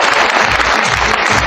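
A seminar audience at a business talk claps loudly in a dense, continuous burst of applause, close and without pauses.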